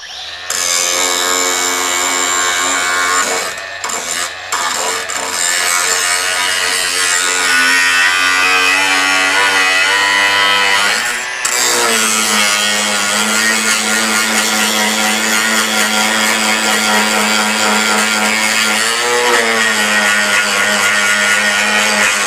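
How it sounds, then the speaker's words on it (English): A Metabo HPT 36V cordless angle grinder pushes a grinding wheel through metal as if it were a cutting wheel, under heavy pressure, giving a loud, steady, high-pitched whine that runs almost unbroken, with a few brief dips as the load shifts. "I'm taking that grinding wheel and literally using it like a cutting wheel, putting all that pressure on there"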